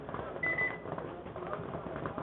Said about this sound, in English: The buzzer on the other field is exceptionally loud.